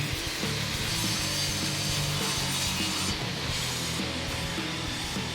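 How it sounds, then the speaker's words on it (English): A table saw with its blade set low cuts a shallow groove down the middle of a wooden piece for a display case, giving a loud, continuous whirring grind close by with no talking. "we're going to set our blade nice and low so we just get about less than a ½ inch or so of cut down the middle."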